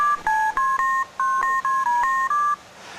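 A quick run of telephone keypad tones, about a dozen short beeps in an uneven dialing rhythm, clear and close.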